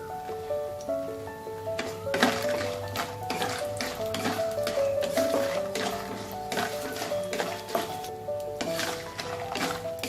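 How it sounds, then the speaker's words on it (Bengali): Bori, little Bengali lentil dumplings, fry in hot white oil with a bright crackling sizzle and repeated stirring clacks, heard beneath steady background music. "বড়িটা আমি লাল করে ভেজে নেব।"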